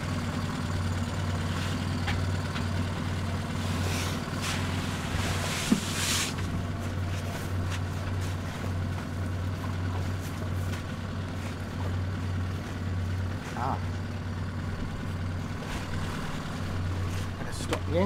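A Brighton fishing boat's engine runs at a steady low drone the whole time, a constant rumbling hum close by, with faint clatters and knocks of work on deck on top.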